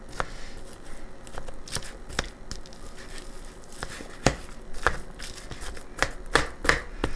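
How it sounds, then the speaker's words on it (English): Irregular sharp taps and scrapes of a fork chopping pork on a plate or board, with soft squishing in between, close up and without talk. "I'm just chopping up the pork a little bit better"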